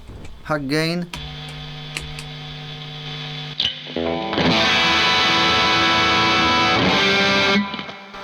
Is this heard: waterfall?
no